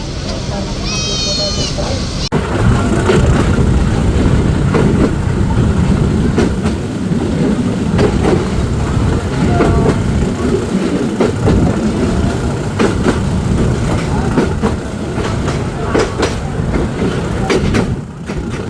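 Dolonchapa Express running on the rails between Kaunia and Parbatipur, a loud, steady rumble of wheels and carriage noise heard from on board, with brief animal bleats and a high squeal near the start.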